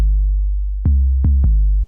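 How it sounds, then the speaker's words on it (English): Deep 808 bass notes from a hip-hop beat: a long sustained boom, then three short punchy hits that each stop sharply when the note ends, loud and alone. "this is going to make the 808 notes cut off when the note stops playing"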